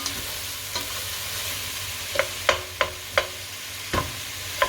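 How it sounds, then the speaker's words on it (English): Bacon, mushrooms and spring onions frying in a pan, a steady soft sizzle broken by several sharp scraping clacks of a utensil stirring, spaced irregularly. "give that a bit of a stir."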